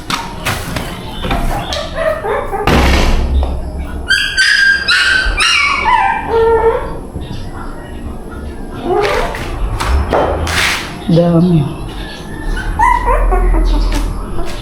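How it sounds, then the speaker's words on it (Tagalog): Dogs in a house give brief barks, yips and whimpers scattered among thumps and handling noise, with a person speaking intermittently nearby. "So, yung mga aso."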